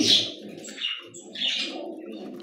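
Beauty Homer and Baghdadi Homer pigeons coo in soft low rolling pulses, close by, with a brief chirp and faint wing movement between them.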